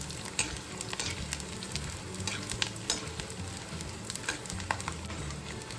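About a handful of edible gum (gond) fries in hot oil for laddu, puffing up as it cooks: a steady close crackle and sizzle with scattered sharp pops, and no one speaks.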